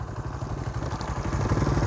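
A parked motorcycle idles nearby, its engine giving a steady, low, rapid putter with a slight clattering texture, running alone without speech for two seconds.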